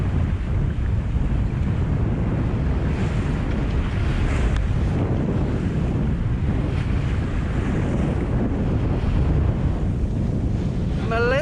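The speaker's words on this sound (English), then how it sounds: "there's a swell building coming from over there" Strong wind buffets the microphone aboard a sailboat on open ocean during a passage toward the British Virgin Islands, with swell and surf rushing continuously beneath it, loud and unbroken, no talk.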